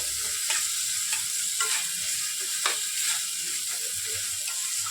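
Mutton sizzles and fries in its released oil while being stirred in a pan, a steady loud hiss broken by repeated scraping stir strokes, with no speech.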